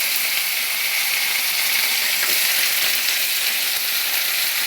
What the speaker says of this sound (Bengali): সিমটা দিয়ে একটু নাড়াচাড়া করবো।